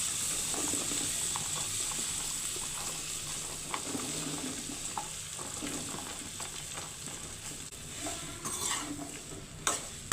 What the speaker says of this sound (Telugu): ఇప్పుడు వీటిని వేగించుకోవాలి